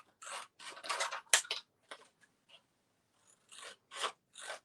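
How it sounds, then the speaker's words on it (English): Strong scissors snipping through roughly three-quarter-inch-wide seed marker strips, a series of close, crisp cuts in quick bursts, then a pause before a few more snips. "And then back to those strong scissors."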